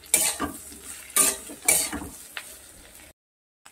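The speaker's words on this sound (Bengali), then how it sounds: "এই আলুর সঙ্গে আমি ক্যাপসিকামটাকে ভালো করে ভেজে নেব" Potato and capsicum strips being stirred and fried in a pan, with a few sharp scraping strokes of a utensil against the metal over a quiet sizzle before the sound cuts to silence.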